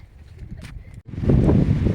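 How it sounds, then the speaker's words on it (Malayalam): Strong wind gusting on a hilltop in Attappadi, a low roaring buffet against the microphone that drops out for an instant and then swells louder and steadier, with no speech. "നല്ല കാറ്റുണ്ട്"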